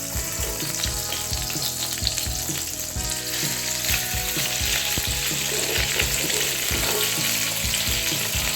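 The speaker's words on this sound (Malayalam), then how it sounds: "ചിക്കൻ ഇനി ഫ്രൈ ചെയ്തിട്ടെടുക്കാം" Pieces of chicken tikka fry steadily in hot oil in a pan, giving a loud, continuous sizzle with a regular run of stirring knocks and scrapes throughout, and no voices.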